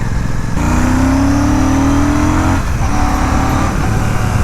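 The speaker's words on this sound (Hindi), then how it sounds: "पैरेलल ट्विन इंजन का जो साउंड है ना, एक वो व्हिसल टाइप साउंड आता है" A Royal Enfield Classic 650 parallel-twin engine drones loudly and steadily, its pitch climbing as it accelerates, with a brief dip partway through like a gear shift.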